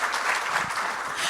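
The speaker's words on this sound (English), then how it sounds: "Let's give a round of applause." An audience at a New York State PTA panel claps steadily, a dense, even patter of applause throughout with no one speaking over it.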